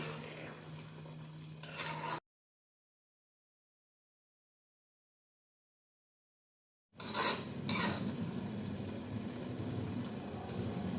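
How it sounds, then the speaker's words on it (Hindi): A spoon stirs eggs in a pan for a potato and egg curry, with light metallic scrapes and clinks before and after a stretch of complete silence. "अंडों को ऐसा ऐसा हिलाते रहेंगे।"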